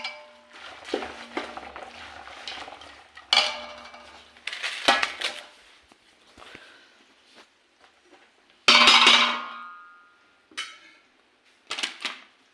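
Chivda tossed with spice mix in a pan, a run of scraping and clinking spoon-on-metal strokes in irregular bursts, separated by quiet gaps, with one louder rattling toss near the end.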